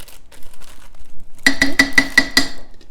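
A spoon stirs a Caribbean jerk pork mixture in a cooking pot, giving six quick, evenly spaced metallic clinks in the second half after a quiet start.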